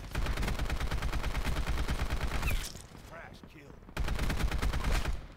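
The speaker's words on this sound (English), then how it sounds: "I really don't like this sound of the gun" AN94 rifle fire in a first-person shooter, loud rapid automatic bursts for about two and a half seconds, a short quieter gap with faint effects, then another sustained burst.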